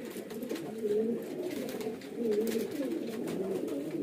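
Several pet pigeons for sale coo softly and repeatedly close by, their low throaty calls rising and falling in a loose rhythm over quiet background noise.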